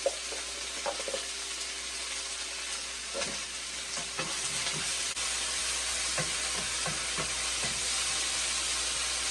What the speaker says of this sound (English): so our bok choy, folks, has started to wilt, so we're going to put our mushrooms in here